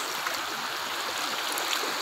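Strong current of floodwater rushing through a flooded residential area with houses, a steady broadband roar of water continuing unbroken and fairly close throughout.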